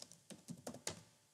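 Keys clack on a computer keyboard in five or six distinct, quiet taps spaced irregularly across about a second, with no voices.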